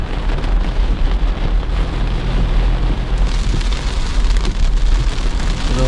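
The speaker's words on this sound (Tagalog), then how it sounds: "Ang lakas ng ulan mga kaprobinsya" Heavy rain pounds hard on a vehicle roof, a dense, loud, unbroken roar with no talking.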